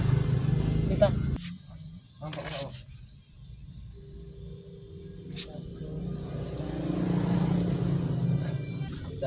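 Motorcycle engine after carburetor tuning, idling with a steady low hum that rises into a throttle rev, heard under people talking in a workshop.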